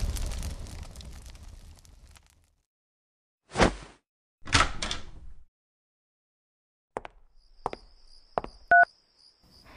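A telephone number is dialed in a short burst of keypad tones, a few quick beeps close by after a stretch of silence and two dull thumps.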